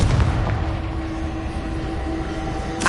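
A Confringo fire spell bursts in Hogwarts Legacy with a deep, rumbling boom that rolls out and lingers as a low roar, followed by a quieter tail and a short sharp crack near the end.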